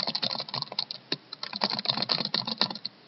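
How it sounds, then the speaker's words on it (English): Fingers type rapidly on a computer keyboard, giving a dense, close run of key clicks in irregular bursts with a brief pause midway, and no voices. "I'm going to type in random characters."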